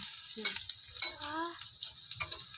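Leafy greens frying in a pan with black cumin seeds, a steady close sizzle with harmonic voices talking over it in short bursts.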